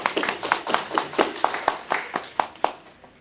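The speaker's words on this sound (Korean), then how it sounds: "박수 한번." Sparse, loose clapping from a small church congregation during a Korean sermon, distinct individual claps in an uneven rhythm, close and moderately loud, no voices over it.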